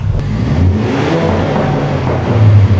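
A 2022 Ford Bronco fitted with an AWE exhaust revs up loud and close, its engine climbing and swelling in a single throaty pull with no speech.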